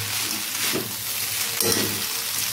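Veg chowmein stir-fried in a pan right after sugar goes in, a steady close sizzle with scraping stirring swells.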